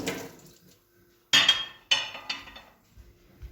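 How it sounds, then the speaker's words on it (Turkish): Water splashing intermittently while a container is rinsed in a kitchen, with clinks and bursts of running water in short separate spurts and quiet gaps between them. "Hemen yıkayayım ben bunu"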